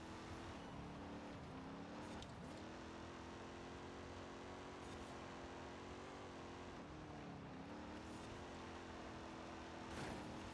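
A front-wheel-drive Oldsmobile Toronado weighing about 4,700 pounds climbs a hill on a volcano rally course in Forza Horizon 5. Its engine holds a steady drone, with pitch dips at gear shifts and brief bursts of loose gravel.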